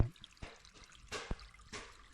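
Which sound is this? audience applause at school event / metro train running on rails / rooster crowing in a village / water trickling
water trickling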